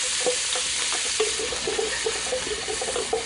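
Garlic sizzling and crackling in hot oil in a pot, a steady close hiss with small stirring scrapes and pops running throughout, with no voices.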